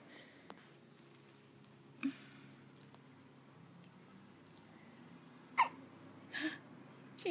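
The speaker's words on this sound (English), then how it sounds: "she has hiccups" A baby's hiccups, several soft, brief hiccups spaced irregularly over quiet room tone.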